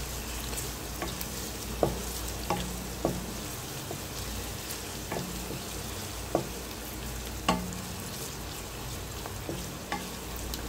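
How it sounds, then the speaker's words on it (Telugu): Onions and green chillies fry in a pan with a steady close sizzle, punctuated by about a dozen scattered clicks and scrapes of a stirring spoon, with no talking. "మనం కట్ చేసి పెట్టుకున్నాం కదా ఆనియన్స్, పచ్చిమిర్చి, అవి యాడ్ చేసేస్తున్నాము. దీన్ని ఇలా మనం ఫ్రై చేసుకోవాలి,"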